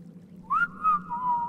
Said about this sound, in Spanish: si le doy a la T, silbo.